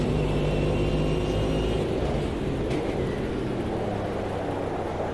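Rain pours over a DPi race car on the wet Daytona road course in the racing game Automobilista 2, a steady hiss blended with the loud continuous engine drone and tyre noise.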